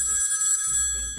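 A telephone rings in a steady, close electronic trill that stops abruptly after about a second.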